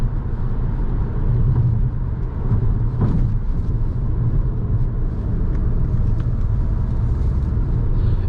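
A 2010 Volkswagen Jetta SEL on a test drive, heard from inside the cabin as a steady, loud low rumble of engine and road noise. A brief louder thump comes about three seconds in, and no voices are heard.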